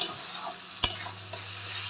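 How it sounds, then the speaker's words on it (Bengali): Spice paste sizzling in a wok over low gas for aloo potol ghonto, a soft continuous fry with one sharp scrape of a spoon partway through. The sound is close and quiet. "মশলাটা একটু ভাজা ভাজা হোক"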